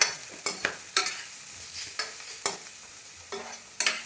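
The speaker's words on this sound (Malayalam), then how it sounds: "ഇനി ചെറിയ ഉള്ളി കൂടെ ഇട്ട് കൊടുക്കാം, ഒരു 3-4 ചെറിയ ഉള്ളി." Small onions frying in a pan for fish curry, with a spoon stirring them in repeated scraping strokes over a soft sizzle, fairly close and with no voices.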